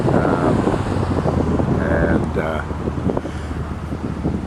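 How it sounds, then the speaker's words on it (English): A light breeze buffets the microphone in a constant low rumble while a person speaks over it nearby outdoors at Notre-Dame de Bonsecours Chapel at sunset. "There's a bit of a breeze."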